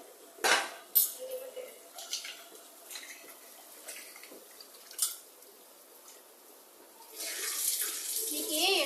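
Rice washed in a metal vessel at a kitchen sink: scattered clinks and knocks of the pot first, then a tap running steadily near the end, faint and close, with no talking.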